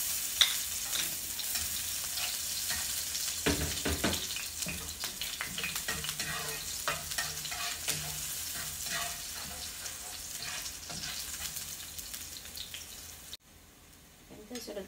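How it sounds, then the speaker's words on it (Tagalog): Garlic sizzles and crackles in hot cooking oil for a squid dish, a close, continuous frying hiss broken by stirring clatter, ending with a quieter stretch. "Ina po natin yung bawang kasi mainit na po yung mantika."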